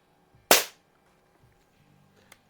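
A Crosman Silhouette 1701P air pistol fires a pellet in a single sharp, close crack that decays quickly, followed by quiet room noise and faint small clicks.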